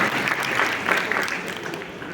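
An audience at a Bharatiya Janata Party gathering claps vigorously as a shawl is presented, a dense continuous round of applause with some crowd murmur underneath.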